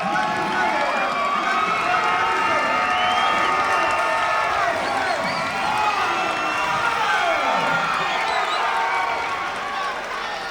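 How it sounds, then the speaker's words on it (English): Spectators at a live competition cheer, whoop and clap in a steady, loud crowd roar that runs unbroken for the whole stretch, with voices blended into the din. "I heard some claps here, man"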